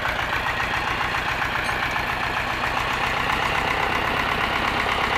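A tractor idles steadily while a garden is tilled in spring, its engine giving a low, even, pulsing chug that stays near and constant throughout, with no speech.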